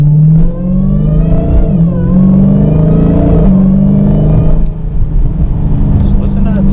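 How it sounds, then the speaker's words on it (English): A supercharged Dodge Challenger engine revs loudly up close, with deep rising and falling roars and a steady low rumble while people talk over it. "Just listen to that supercharger."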